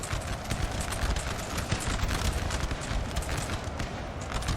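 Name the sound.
cavalry horses galloping in Napoleon Total War video game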